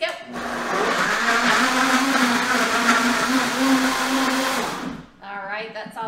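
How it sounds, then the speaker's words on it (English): A Vitamix blender whirs at high speed, chopping zucchini and cucumber with a dense, steady roar for about five seconds before cutting off, followed by brief voices nearby. "we are going to knock these down and so we have some more room in our Vitamix"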